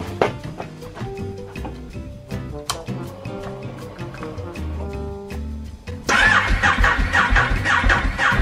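A Ducati Hypermotard motorcycle engine cranks and then catches at about six seconds, settling into a loud, busy idle that runs to the end, with no talk over it.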